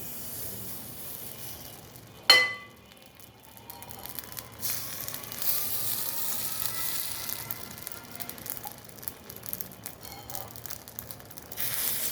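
Khaja pitha frying in hot oil, a sharp clatter as the pieces drop in, then a building crackling sizzle that keeps going, close and steady with no speech.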